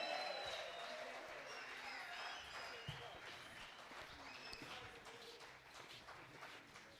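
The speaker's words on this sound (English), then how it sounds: "Let's give them a round of applause." Steady applause from a crowd at a performing arts conference fills the whole stretch, dense and continuous, with a few sharper claps standing out and some murmuring voices mixed in.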